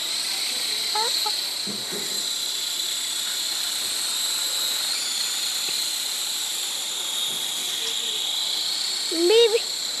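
A steady whirring hiss of a small remote-control toy helicopter's rotor in flight runs throughout, with a couple of brief voices and a short squeak near the end.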